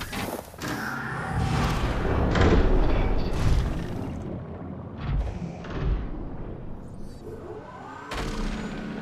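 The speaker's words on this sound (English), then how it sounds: "Engine powering down." Prawn suit engine powering down in Subnautica, a deep mechanical rumble with booming, clunking knocks that swells and then fades over several seconds, loud and close with no voice over it.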